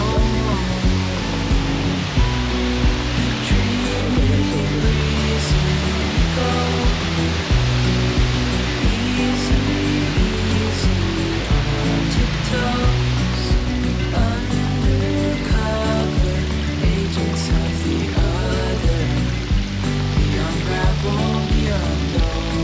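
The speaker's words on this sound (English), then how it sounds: "this hike has 3 major waterfall payoffs" A waterfall on a hiking trail at Letchworth State Park in New York State, heard as a steady, loud broadband roar of falling water that runs unbroken throughout, with no talk.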